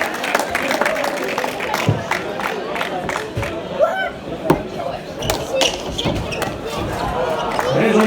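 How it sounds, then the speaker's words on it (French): Crowd at an amateur basketball game, with cheering, scattered clapping and ball thuds mixed with talk and shouting, fairly close and lively throughout. "On peut les applaudir."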